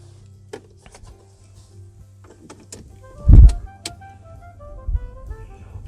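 A Mercedes S550L with a 5.5-litre petrol engine and four-wheel drive starts up: a few light clicks and switch sounds, then a short, deep rumbling burst as the engine catches, before it settles to a quiet idle.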